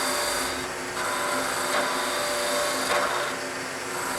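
Skew chisel cutting with its long point to part off wood on a lathe for a magnetic pen holder, a loud, close, steady whirring scrape with a few brief surges as the tool bites.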